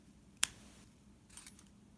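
Scissors snip crochet yarn once, a single crisp, close click against a quiet room, with faint rustling shortly after.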